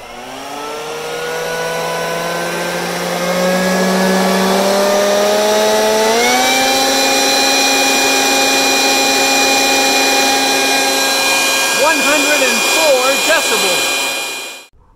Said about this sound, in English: The winner is the leaf blower.